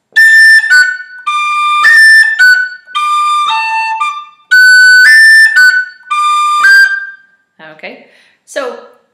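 A tin whistle plays a variation of the first phrase of the Irish tune Kitty's Rambles in short bright bursts of notes with brief gaps, loud and close, ending with a few breathy squeaks.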